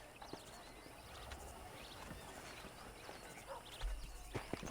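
Horses in the video game Red Dead Redemption trot with a soft, steady clip-clop of hooves, quiet and fairly distant, with a few louder thuds near the end.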